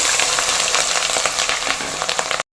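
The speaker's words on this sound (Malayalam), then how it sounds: "ഇനി നമ്മൾ വറക്കാനിടുന്നത് പച്ചമുളകാണ്" Green chillies frying in hot oil on a low flame, a steady dense sizzle with fine crackles and pops that cuts off abruptly at the end.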